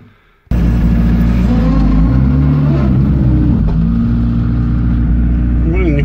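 After a brief quiet moment, the engine of a modified ZAZ car roars loud and close, revving unevenly as it strains to reverse, with voices heard over the steady drone.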